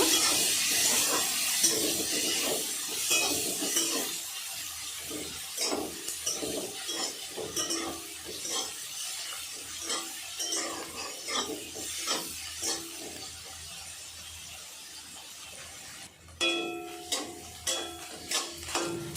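Chopped onions frying in a pan with green chillies, a soft sizzle under repeated scraping strokes of a spatula in a fairly even rhythm, with a brief clink of utensils near the end.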